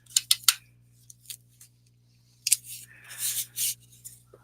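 Scissors cutting around the edges of a taped painting, several quick crisp snips up close, a pause, then a longer run of rapid rustling cuts, alone with a steady low hum underneath.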